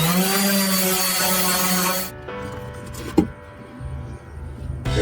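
An electric power sander with 220-grit paper works a wooden cutting board, a loud steady whine that stops partway, followed by quieter handling knocks and a bump.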